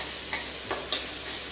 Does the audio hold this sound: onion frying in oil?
yes